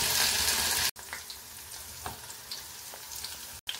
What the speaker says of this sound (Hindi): हमने भिंडी को चलाते हुए अच्छे से भिंडी हमारी पक चुकी हुई है